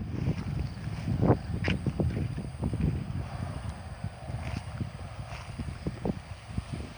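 Strong wind gusts sweep across open farmland in the aftermath of Typhoon Molave, a steady rushing roar with deep low buffeting and irregular bursts throughout.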